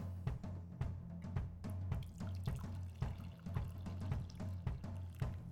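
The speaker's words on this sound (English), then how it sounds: "Pour off a cup." Coffee poured from a Moccamaster carafe into a cup, a steady close-up liquid trickle with small splashing drips and light clinks, no talking.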